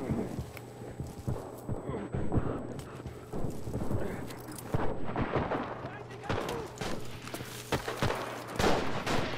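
Sniper and battlefield gunfire in the video game Enlisted, repeated sharp cracks and booms over a rumbling background, with a player talking throughout.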